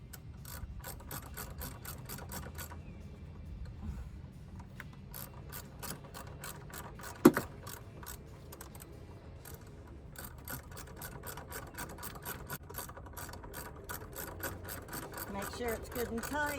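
A hand ratchet clicks steadily, close and continuous, as the battery tie-down bolt is tightened on a 2018 Chevy Silverado, with one sharp metallic knock midway and a faint voice underneath.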